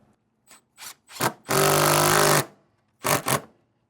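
A power driver drives screws into a MORryde Safe-T-Rail hand rail bracket on a 2017 Jayco Eagle RV: a few short trigger blips, one longer steady whirring run, then two quick bursts, loud and close with no talking.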